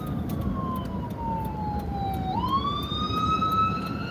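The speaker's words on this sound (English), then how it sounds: "We got a ambulance." An ambulance siren wails outdoors, its tone sliding downward and then rising again as it passes by at a moderate distance over steady road noise.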